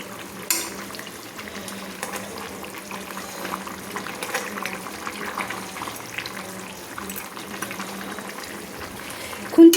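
Silver carp fish curry with drumsticks being stirred in a pan with a spatula, soft bubbling and scraping clinks running under the simmer, ending in a sharp knock.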